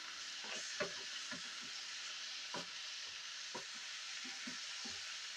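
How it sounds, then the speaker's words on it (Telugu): Okra pieces frying uncovered in a pan, a steady close sizzle with occasional soft stirring taps, heard alone without talk. "చూసారా చక్కగా పొడి పొడిగానే వేగిపోతున్నాయి"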